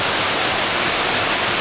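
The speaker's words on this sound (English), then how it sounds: "It's a perfect little waterfall." Benlister falls on Arran, a small waterfall sliding down near-vertical rock, makes a constant, close hiss of rushing water with nothing else heard.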